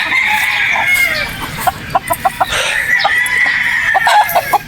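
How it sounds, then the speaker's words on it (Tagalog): Boston Roundhead brood stag rooster crowing with a drawn-out call, followed by a run of short rhythmic clucks, close and loud. "Boston Roundhead Brood Stag"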